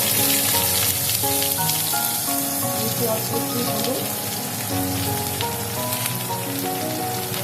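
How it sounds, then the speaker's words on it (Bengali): Potatoes fry in hot oil in a pan for a Bengali small-fish chorchori, a steady broadband sizzle running throughout, with tonal background sounds layered underneath. "আলুটাও আমি একটু লাল লাল করে ভেজে নেব"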